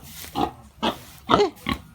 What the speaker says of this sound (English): So Ginger's a full-size pig now